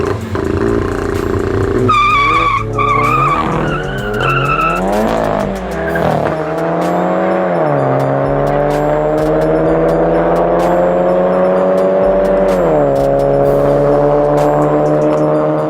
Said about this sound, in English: It's going to be the Tweak Performance Golf 7 GTI versus the Strada Performance Polo GTI.